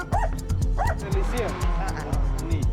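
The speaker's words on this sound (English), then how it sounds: "Straight away, it's clear that there are a lot of dogs" Many dogs in a community yap and bark in quick overlapping bursts, some high whimpering yips among them, close and fairly loud, with a voice speaking underneath.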